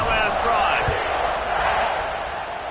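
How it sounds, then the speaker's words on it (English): A stadium crowd roars at a college football kickoff against West Virginia, a dense, steady wall of cheering that holds loud for the whole stretch and eases slightly toward the end. "this crowd is feeling themselves after that last drive"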